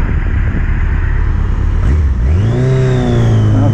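A Yamaha XJ900 Diversion motorcycle with a big exhaust and the choke off idles with a low, steady rumble, then revs up with a smoothly rising engine note that holds loud and close.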